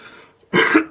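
A single sharp throat clearing during a Korean math lecture: one loud, close, rough burst after a moment of quiet speech-like murmur.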